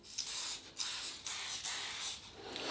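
A vintage Yardley Gold aftershave bottle sprays in about five quick, soft, hissing bursts, close by and alone.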